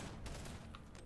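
Enemies open fire in the VR game BONELAB, a dense burst of gunfire crackling over a constant low rumble, with a few sharper shots standing out near the end.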